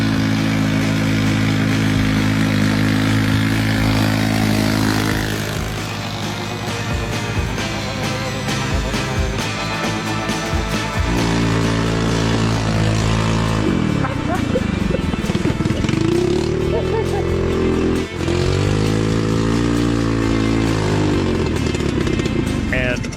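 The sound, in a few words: snowmobile engine running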